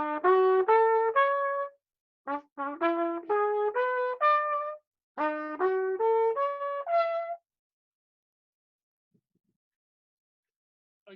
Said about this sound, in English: Ninth chords will sound something like this.